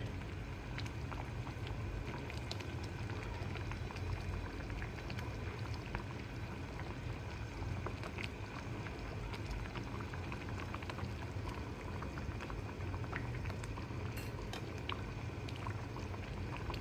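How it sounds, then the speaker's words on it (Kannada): Eggplant gojju simmering in a pot with a mustard-seed and curry-leaf tempering, giving a steady, soft bubbling and popping that runs continuously and evenly throughout, close and fairly quiet, with no talking. "ಕುದೀತಾ ಇದೆ"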